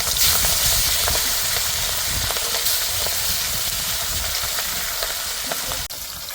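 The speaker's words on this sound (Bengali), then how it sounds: "তেল ভালো করে গরম করে নিয়েছি, এইবার মাথাগুলো দিয়ে দেব।" Rohu fish heads frying in well-heated oil for a jute leaf dish, a loud, steady crackling sizzle with bright hiss and scattered pops, close up and continuous without talk.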